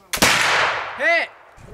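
A muzzleloader rifle fires a single loud, booming shot at a squirrel target during an outdoor meat shoot competition. A long, rolling echo follows, with a brief warbling tone near the end.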